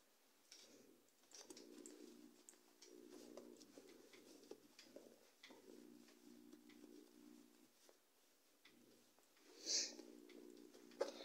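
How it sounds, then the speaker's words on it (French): Faint birds, pigeons or doves, coo and call from a home garden at low volume, soft repeated cooing phrases with brief gaps, alone against a quiet background. "Il y a des oiseaux dans le jardin."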